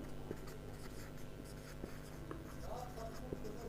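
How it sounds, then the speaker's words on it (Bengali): Chalk or marker scratches on a board during a physics lecture on vectors: a run of short scraping strokes and taps over a low, steady room background. "তার সাথে সাথে আমি আরও কিছু লিখে দিচ্ছি"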